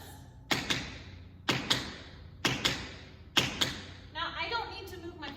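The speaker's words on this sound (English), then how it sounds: "a brush forward and a spank back, we get a shuffle" Tap shoes strike a hard floor in four paired taps at an even pace, each a quick brush-forward, spank-back shuffle, followed by a brief scuffing flurry.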